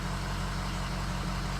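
A Ford F250 King Ranch pickup engine idles steadily up close, a low, even hum that holds with no change in pitch and no voices over it.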